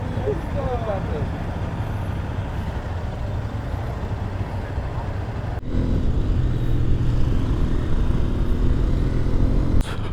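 A group of Hero XPulse 210 motorcycles loaded with a heavy payload ride out together, their engines droning steadily throughout, with the rumble growing louder and closer partway through.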